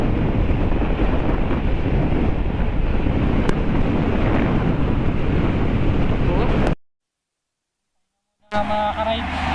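Strong wind roars across the microphone during a motorcycle ride on a North Luzon mountain road, a loud, steady broadband buffeting that cuts off abruptly into silence before returning with a rougher rush.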